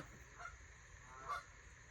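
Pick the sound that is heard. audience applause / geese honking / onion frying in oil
geese honking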